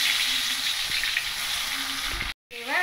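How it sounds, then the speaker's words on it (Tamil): Hot oil sizzles and crackles steadily as vegetarian mock chicken fries, a continuous bright hiss that cuts out abruptly near the end. "இப்போ நம்ம இந்த சைவ கோழியை பொரிக்க போகிறோம்"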